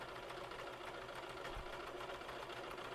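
A home sewing machine stitches along a fabric edge to imitate a serger seam, its needle mechanism whirring in a quick steady rhythm at low level with no talk.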